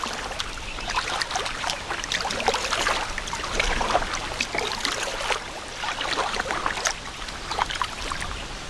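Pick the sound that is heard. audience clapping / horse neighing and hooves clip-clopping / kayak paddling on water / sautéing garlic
kayak paddling on water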